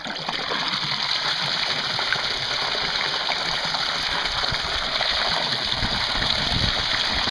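A fountain fed by a solar pool pump system, a bottom feeder pump with about a four-foot head and a return line, gives a steady, close rush and splash of falling water throughout with no break.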